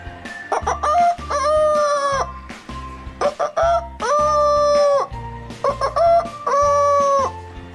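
A person imitates a rooster crowing three times, each a loud drawn-out cock-a-doodle-doo with short clucking sounds between.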